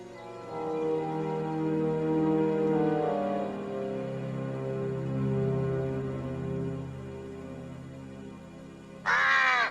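A crow caws in an animated film, hoarse repeated calls at moderate distance over a steady musical backdrop, with a brief sharp burst near the end.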